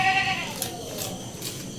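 A goat gives a single short, wavering bleat close by, followed by quiet outdoor background noise.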